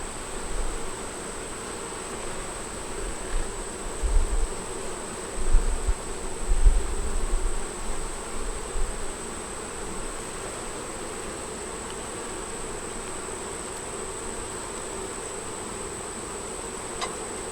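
Honeybees buzz in a steady, close swarm around an open hive with brood and pollen frames, a constant drone with a few low thumps and bumps partway through.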